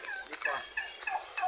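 Farm turkeys gobble in quick, rapid warbling bursts, moderately near, with overlapping calls and no talking.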